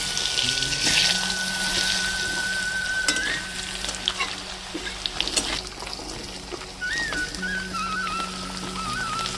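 Potatoes tip into hot oil with cumin in a pan where fish was just fried, in a village kitchen; a loud, continuous sizzle with stirring scrapes runs throughout, and no voices are heard.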